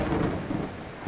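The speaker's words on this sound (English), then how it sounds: "And it's raining" Rain with low thunder rumble in the game Mount & Blade II Bannerlord, a dense steady wash of rainfall under a deep rolling roar, without voices.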